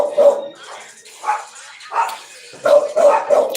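A dog barks in a series of sharp, loud, close barks, some short yips, with pauses between bursts and a quick cluster of barks at the end.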